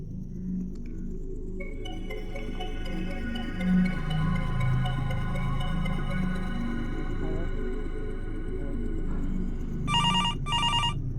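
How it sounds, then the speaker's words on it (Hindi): A telephone rings with a sustained electronic tone over low background noise, ending in two short, bright bursts of ringing. "फोन बज रहा है, उठाओ"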